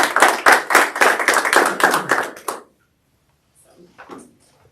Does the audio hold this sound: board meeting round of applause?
yes